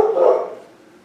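An old dog gives a single sharp bark at close range, fading quickly into near silence.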